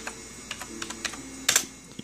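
A command being typed on a computer keyboard for an IBM Aptiva PC, with quick, irregular key clicks close by and a louder cluster of strikes near the end, no voices.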